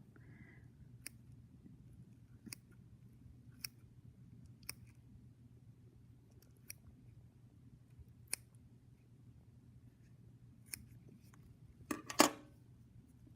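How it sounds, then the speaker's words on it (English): Pointed scissors snip through skin and muscle during a thoracic cavity dissection, giving about a dozen sharp, isolated clicks spaced a second or so apart over a low steady hum, ending in a brief cluster of quick cuts. "So I'm going to start with my scissors, and I'm going to use the pointy end, and I am going to cut the skin and the muscle."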